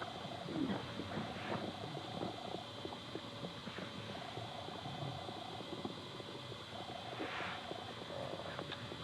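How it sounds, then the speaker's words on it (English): Birds calling and singing softly in a forest grove, scattered chirps and coos over a steady outdoor ambience, fairly distant and continuous with no talking. "With the ripple of waters, song of birds"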